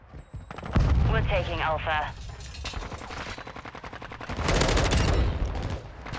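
Rapid automatic gunfire rattles in Call of Duty: Modern Warfare 2 in dense bursts, with a second heavy barrage near the end. In-game voice lines and a player talk over it.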